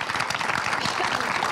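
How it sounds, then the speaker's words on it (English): Audience applauding at the close of a conference session before lunch, steady dense clapping throughout, moderately loud with no voices over it. "so another applause for wonderful ladies"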